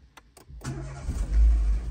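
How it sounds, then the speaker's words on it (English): A Renault Clio engine cranks with a few quick starter clicks, catches, and settles into a deep, close idle. "I'm going to start the car now."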